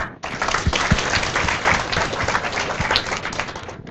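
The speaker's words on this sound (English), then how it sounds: "Give a clap." An audience at a guest lecture on corporate managers breaks into dense, steady applause. Many hands clap together at an even loudness for about four seconds, with no talk over it.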